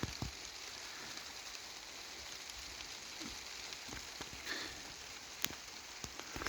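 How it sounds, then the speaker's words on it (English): Steady, faint rain falls during roller pigeon flying, a soft continuous hiss broken by occasional louder drips and taps, with no talking. "It is raining right now."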